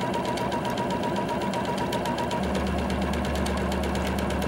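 A sewing machine stitches steadily through heavier tulle while making heirloom lace, a continuous close, loud mechanical whir with a fast regular rhythm.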